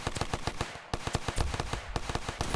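Rapid bursts of video game automatic gunfire, loud and close, with brief gaps between volleys in a sharp, crackling rhythm.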